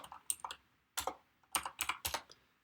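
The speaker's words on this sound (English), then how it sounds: "if we can type correctly" Close, crisp keystrokes on a computer keyboard while JavaScript code is entered, coming in short irregular bursts of several clicks with brief pauses between, no voices.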